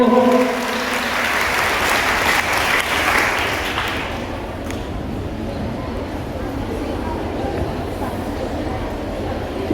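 A school audience applauds a student, with loud, dense clapping that fades to a steadier, lighter patter after a few seconds.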